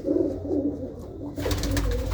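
Surkha pigeons at a home loft coo in soft, rolling low calls, first clear and close, then partly buried under a sudden burst of broadband rustling noise near the end.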